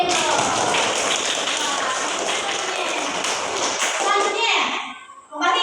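A classroom of children claps together in a dense, lively burst of applause mixed with kids' chatter, fading out near the end.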